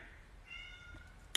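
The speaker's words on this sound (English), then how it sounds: "Now my cat is going off in the background." A house cat meows in the background of a live stream, faint and distant, with a short rising cry and a sharp click near the end and no speech over it.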